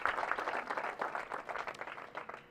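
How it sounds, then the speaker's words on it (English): Applause from a fundraising-event audience for a capital campaign gift, steady dense clapping at moderate volume filling the whole stretch without a break. "That's worthy of applause."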